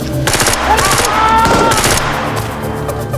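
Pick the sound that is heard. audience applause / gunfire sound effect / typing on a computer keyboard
gunfire sound effect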